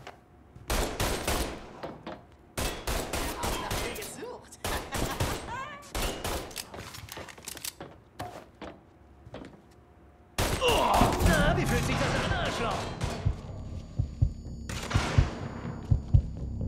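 Gunfire in the Mafia III Definitive Edition video game on Xbox One, with loud rapid bursts of automatic shots separated by short pauses, then a denser, continuous volley of heavy fire; a voice speaks briefly amid the shooting.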